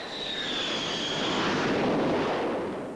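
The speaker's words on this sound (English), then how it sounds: "Landing a jet on a strip just 300 feet long with only a 10-foot margin of error" A jet aircraft roars across a carrier flight deck, a loud broadband rush that swells and holds with a descending whine on top, close and continuous with no speech.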